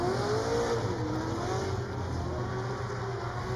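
A race car accelerates hard under full throttle during qualifying at Orange Show Speedway, its engine note climbing and rising in pitch as it powers steadily out of a corner, loud and continuous for several seconds.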